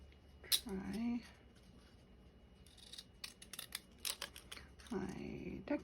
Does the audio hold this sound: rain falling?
no